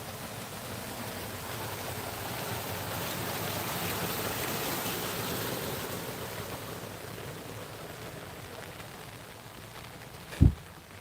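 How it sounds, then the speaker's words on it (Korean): Water rushes into a farm irrigation channel on a rainy day, a continuous broad wash that swells slightly mid-way then eases, ending with a single brief knock near the close; no one speaks. "농수로 지금 물 아주 시원하게 잘 들어가고 있습니다."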